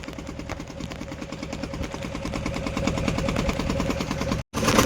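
A boat engine chugs steadily as the boat heads into a creek. The motor rumbles evenly and fairly close with no talk, and the sound cuts out briefly near the end before returning.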